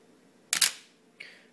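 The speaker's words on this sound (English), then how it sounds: "you can hear the shutter speed get longer if you pay attention" A single-lens reflex camera shutter firing for an exposure: a sharp double clack from the mirror and shutter, then a fainter click about half a second later, close and clear in a quiet room.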